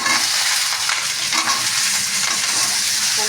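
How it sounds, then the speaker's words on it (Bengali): Pumpkin and potato pieces frying in hot oil, a loud, close, even sizzle and crackle that holds steady the whole time. "এবার আমি কুমড়ো আর আলুটাকে তেলে ছেড়ে দিলাম।"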